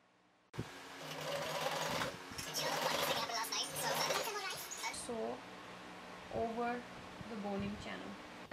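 A sewing machine stitches over boning on a handmade corset top, its motor whirring in steady runs with short pauses and pitch shifts as it speeds and slows, close and clear.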